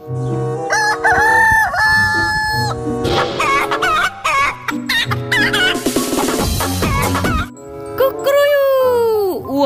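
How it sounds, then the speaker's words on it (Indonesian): Rooster crowing loudly and repeatedly, drawn-out cock-a-doodle-doo calls with some clucking between them, close and clear throughout. "ada hewan ayam"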